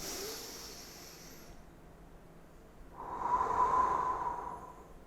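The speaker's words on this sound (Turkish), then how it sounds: "Burundan derin bir nefes alın" A deep breath drawn in through the nose during an on-camera acting relaxation exercise, heard as a soft, steady airy inhale that swells in the second half, close and alone with no talking.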